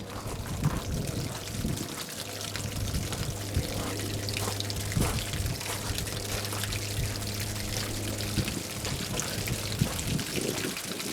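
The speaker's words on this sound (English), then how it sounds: "So I've got the pump on just to push as much water out of there as I can." Water rushes steadily out of an RV hot water heater tank with the water pump running, making a constant splashing, pouring noise with a low hum underneath.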